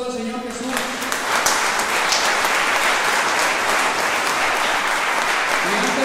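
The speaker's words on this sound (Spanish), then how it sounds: "dale un fuerte aplauso al Señor Jesús" A church congregation at an urban preaching service breaks into loud, sustained applause, rising quickly after a brief voice at the start and holding dense and steady throughout.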